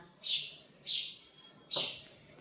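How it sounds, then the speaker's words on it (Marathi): Sparrows near a nest give three bright, sharp chirps, evenly spaced about half a second apart, close and fairly quiet against a still background. "आलंय वाटतं चिमण्या ही बघा"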